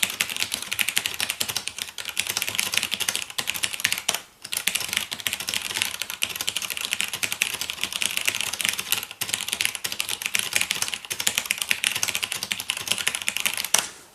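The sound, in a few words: typing on handheld computer keyboard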